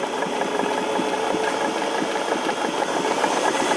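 A sewing machine stitches a wide zigzag on denim jeans, a steady close mechanical chatter of rapid needle strokes running without pause.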